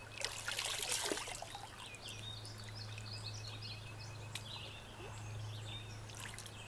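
Blessed water in a ritual is poured out in a short burst of splashing at the start, then settles into a soft, steady trickle, accompanied by scattered chirping birds and a continuous low hum.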